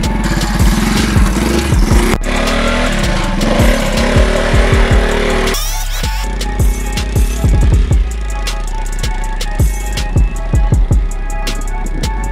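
A homemade bike engine runs loudly up close, a rough, buzzing two-stroke-like drone with rapid popping pulses and shifting pitch as it revs, continuing throughout with no talking over it.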